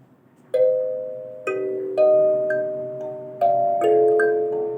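Bright plucked kalimba notes ring out one at a time, each chiming tone decaying slowly, played at a relaxed, uneven pace.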